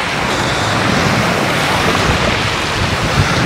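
Sea surf washing onto a beach at Dzhemete in Anapa, a steady close roar of breaking waves with wind buffeting the microphone throughout.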